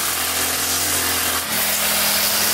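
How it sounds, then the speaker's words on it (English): A weed whacker runs around a clothesline outdoors, giving a loud, steady buzzing whine with one brief dip partway through and no voices. "good thing now that that weed whacker back up and running"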